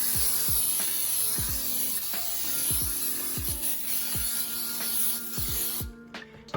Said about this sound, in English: I'm going to start by spraying with Pam baking